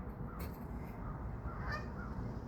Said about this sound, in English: See the geese out there.